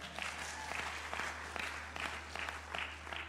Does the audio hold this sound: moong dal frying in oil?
no